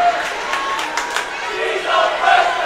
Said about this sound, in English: The crowd was going crazy here